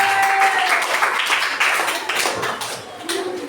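A classroom full of students claps together after a group presentation, a dense, steady patter of applause lasting a few seconds before it starts to thin out.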